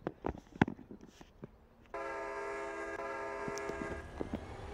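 A short passenger train in Train Simulator Pro USA rumbles along, then its horn sounds a long, loud, sustained blast that runs to the end, with clanks and knocks before it.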